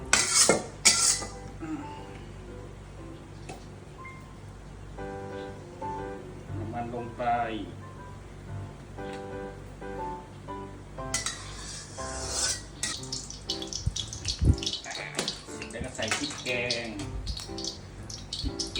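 Pork cartilage is stir-fried with southern Thai curry paste in a pan over a charcoal stove, with repeated scraping and clanking of a metal utensil against the pan while someone talks over it.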